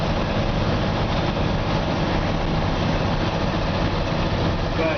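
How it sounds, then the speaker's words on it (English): A 1955 Chevy 3100 pickup's engine idles with a slight exhaust leak, giving a steady, continuous low rumble that holds evenly for the whole stretch with no voices over it. "It's got a little bit of an exhaust leak."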